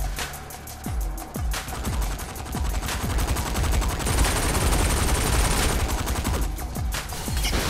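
Rapid machine-gun fire from murderbots in the Saints Row 4 video game, dense overlapping bursts of shots that build into a sustained loud barrage with no speech.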